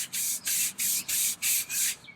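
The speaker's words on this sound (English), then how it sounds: "that's sitting for a minute, so I'll scrub it down" A brush scrubs patio furniture coated with Super Clean cleaner in six quick, even back-and-forth strokes, each a crisp, hissing rasp close by, with no voices.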